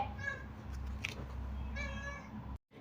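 A domestic cat meows several times indoors, short tonal calls with a couple of longer drawn-out meows, close and clear over a low background hum, ending abruptly.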